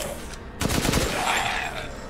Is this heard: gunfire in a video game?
yes